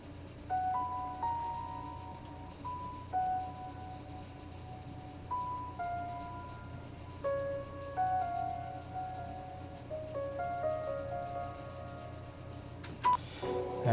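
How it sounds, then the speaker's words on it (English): Lovely piano part added to the track, bright single notes in a gentle melodic line over a soft bed of synth pads, fairly quiet and continuous with no voices. "So first up is this piano, which sounds lovely."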